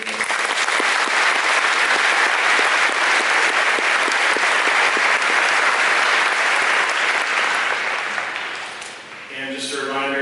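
A packed high school assembly audience claps steadily and loudly in dense, sustained applause, fading slightly near the end as a voice begins to speak.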